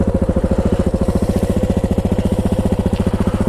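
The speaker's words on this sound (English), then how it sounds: "So we shall start it up, and you can hear how amazing this thing sounds." A KTM 690 Enduro single-cylinder motorcycle engine with a stock exhaust runs close by, a loud, steady, rapid thumping idle with even pulses and no talk over it.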